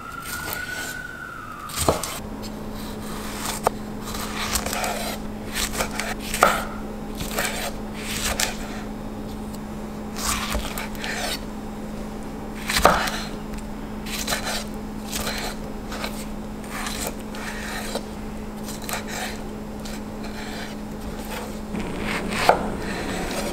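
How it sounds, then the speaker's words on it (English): A sharp knife cuts tomatoes into big chunks for a stir-fried tomato and egg lunch, with crisp, irregular chopping thuds on a board over a constant low electrical hum. "we're going to cut the tomatoes into big old chunks"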